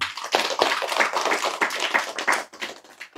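Audience clapping in response to a speaker, a brief burst of dense, uneven hand claps that rises and falls and tapers off near the end.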